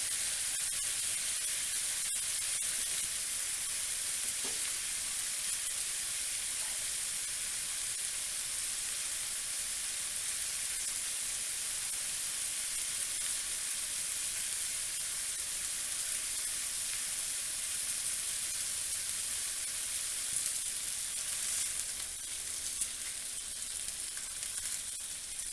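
Food searing in a hot pan gives a steady, even sizzle that hisses on without a break for nearly half a minute, close and moderately loud, with only a few faint clicks and no talking.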